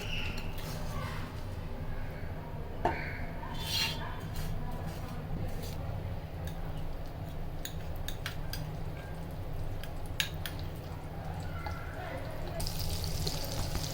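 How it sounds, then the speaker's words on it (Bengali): Browned, fried lachha semai (vermicelli) tipped out of the pan onto a plate, a steady dry rustling and scraping with a faint sizzle underneath and a few sharp clinks, close and continuous. "আমরা সেমাইগুলো একটা প্লেটে ঢেলে নিচ্ছি।"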